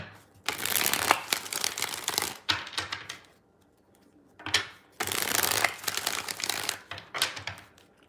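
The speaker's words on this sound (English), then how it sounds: "Okay, 5 shuffles here." Tarot cards are shuffled by hand in two long riffling bursts, each a rapid papery flutter, with a short quiet gap and a few brief cracks between them.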